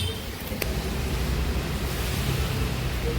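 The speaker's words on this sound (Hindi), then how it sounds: "हो रही देखो, तेज़ हो गई है बारिश।" Heavy rain pouring down outdoors during a downpour, a steady broadband hiss that holds throughout with no speech.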